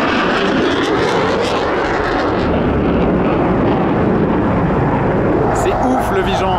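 Loud, steady jet roar fills the whole clip, a continuous broadband rumble of fighter jet engines passing close overhead, with no talking.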